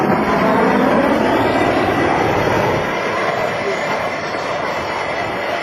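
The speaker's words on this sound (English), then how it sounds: "The A-10's two General Electric turbofan engines add more than just power to its performance." Roar of an A-10 Warthog's twin General Electric turbofan engines at an air show open house at McGuire Air Force Base, a loud steady broadband jet rush that eases slightly midway.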